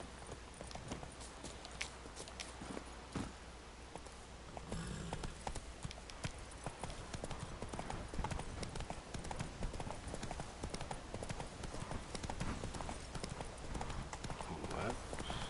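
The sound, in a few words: horse Roach galloping hoofbeats in The Witcher 3 video game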